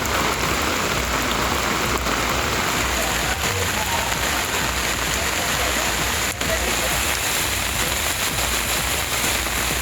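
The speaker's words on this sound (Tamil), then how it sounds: "திருப்பதி திருமலையில் நேற்றிரவு 8 மணி முதல் 9 மணி வரை 1 மணி நேரமாக பலத்த மழை பெய்தது." Heavy rain pours at Tirupati Tirumala temple, a steady dense roar of drops on surfaces that stays loud and unbroken throughout, with no voices heard.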